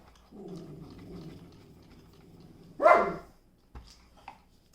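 A dog named Pippi indoors lets out a growly, drawn-out bark followed by one sharp loud bark, then a couple of faint short yips trailing off.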